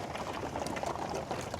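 Meltwater sloshing with ice inside a DeWalt cooler as it is shaken, a steady close-up liquid churn with rattling bits throughout, no voices.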